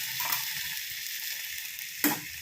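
Water is poured into a hot pan of fried mustard seeds while making trotter soup, giving a steady soft hiss of sizzling that flares into a sharp, louder burst near the end.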